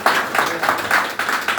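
A hotel training-session audience claps loudly for a Ganoderma health product, in rhythmic bursts of unison clapping about three times a second.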